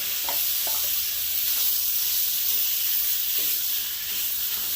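Grilled cheese sandwich frying in oil in a pan, giving a steady, close sizzle and hiss that runs the whole time, with a few faint scrapes and stirring sounds on top.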